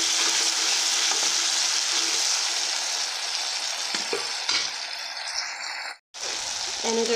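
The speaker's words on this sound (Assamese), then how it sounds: "এনেদৰে বিলাহীটো ভাজি ল'লোঁ" Tomato frying in a pan gives a loud, dense, hissing sizzle that eases slightly toward the end, broken by a brief utensil scrape and a momentary gap before the crackle returns.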